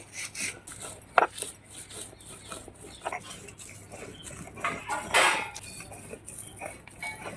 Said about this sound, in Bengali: এবার এটাকে ভালো করে বেটে নেব মিহিন করে